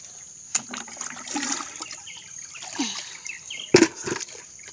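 Water splashing and sloshing as clothes are soaked in soapy water with detergent powder for washing, with a few sharp splashes and trickles amid a steady background hum, no voices.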